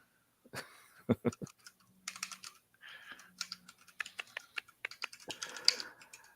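Fingers typing on a computer keyboard during a live gaming stream, a quick irregular run of close key clicks and taps lasting several seconds, with a faint low hum beneath and no talk.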